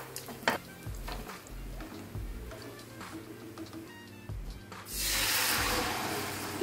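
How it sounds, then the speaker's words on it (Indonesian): Pork pieces scraping and stirring in a wok, then a loud burst of sizzling hiss as they hit hot oil for a second deep fry and keep frying steadily up close. "Jadi kita gunakan double frying."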